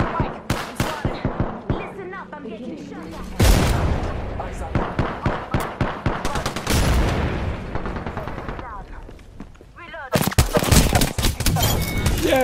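Rapid bursts of gunfire in the battle royale video game Apex Legends, loud volleys of repeated shots with short pauses, continuing through most of the stretch with a heavy final barrage.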